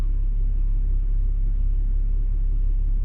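Gridlocked one-way streets in Dover packed with lorries, a steady deep engine rumble of idling heavy vehicles holding level throughout, close and continuous with no voices.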